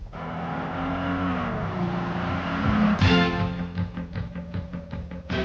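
A 1988 Chevy Beretta GT with a 2.8-liter V6 multi-port fuel-injected engine accelerates hard around a test track. Its engine drones steadily and loud, then climbs through revs with a sharp surge and a run of quick pulsing changes.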